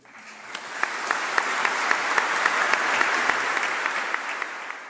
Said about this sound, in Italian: accompagnano sul sagrato il feretro tra gli applausi della piazza